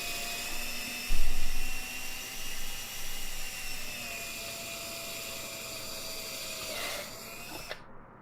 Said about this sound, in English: now that I've got the holes drilled all the way through the piece